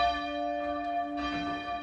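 A church bell rings out, played by a cathedral bell ringer visiting a primary school in Dorset, giving a sustained resonant tone with long ringing overtones and two soft swells as it strikes again.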